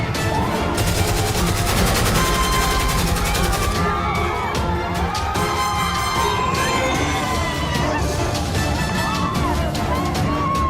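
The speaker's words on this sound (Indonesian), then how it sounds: "Mendengar suara tembakan beruntun ini" Rapid bursts of gunfire in a staged drama of a village massacre, close and loud rattling shots repeating over several seconds, mixed with crowd noise and shouting.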